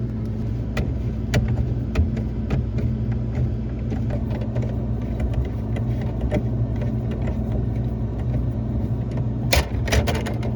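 A tool loosens the 1/4-inch screws holding the ice maker in a Whirlpool WRS325FDAM02 refrigerator, giving a run of sharp, irregular ratcheting clicks close up against a steady low hum.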